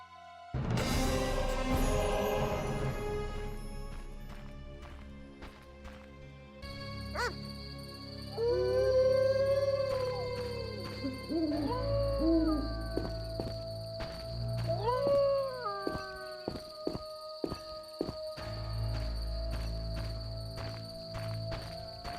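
A dog howls in a fantasy video game set in The Witcher world, with a rising, wavering drawn-out cry amid ambient insect chirps, footsteps and a low background drone.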